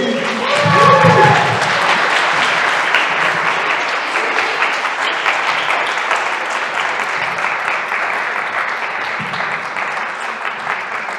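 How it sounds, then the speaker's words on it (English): Audience applause welcoming a speaker onto a conference stage, a loud, sustained crowd clapping that swells early, then holds steady and slowly eases over about eleven seconds, with faint voices underneath. "So, with a huge round of applause, please welcome our wonderful, our amazing Aleksandra"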